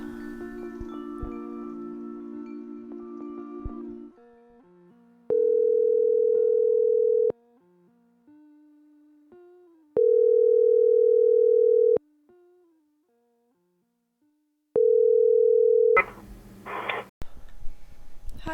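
A steady telephone line tone while placing a call, heard in three long, loud sine-like bursts spaced a few seconds apart, with quieter music in the gaps between them and no voices.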